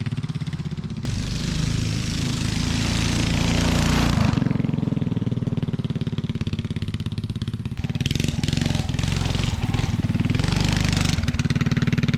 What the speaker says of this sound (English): We hit a whopping 23 miles an hour on those little tracks with our little engine.